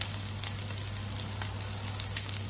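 Leftover-rice kebabs fry in a little oil in a pan, a soft steady sizzle with faint crackles over a low hum, with no one talking.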